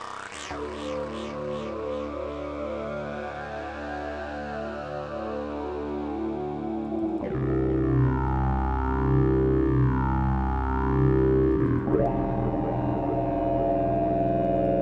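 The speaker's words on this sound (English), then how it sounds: "sort of didgeridoo sounds" A deep, buzzing synthesizer drone with shifting, warbling overtones, like a didgeridoo, sustained throughout and changing timbre twice.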